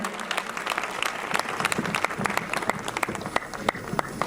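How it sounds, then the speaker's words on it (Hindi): An audience at a Christmas ceremony applauds students who have just taken an oath, with loose, uneven clapping and sharp individual claps standing out over a crowd murmur. "Let's clap for all of them."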